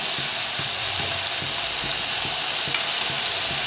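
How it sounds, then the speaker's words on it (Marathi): Fenugreek greens stir-fried Khandeshi style in a pan, a steady close sizzle with rhythmic scraping stirring strokes repeating about every half second. "चांगलं परतून घ्यायचं तिला आता या आपण सगळी भाजी टाकून घेऊ"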